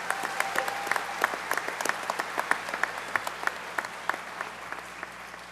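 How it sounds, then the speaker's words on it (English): Scattered applause ripples through an awards ceremony audience, individual claps distinct and irregular, fairly soft and distant, with no speech over it. "Let's give them a round of applause."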